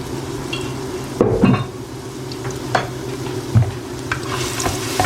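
Garlic sizzles in oil in a pan, a steady crackling fry with a few clinks and scrapes of a utensil stirring against the pan.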